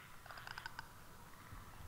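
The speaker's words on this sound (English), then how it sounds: "Oh shit, I hear clicking." A Clicker infected in The Last of Us gives a short run of rapid, crisp clicks, about eight in quick succession, faint and slightly distant over a low ambient rumble.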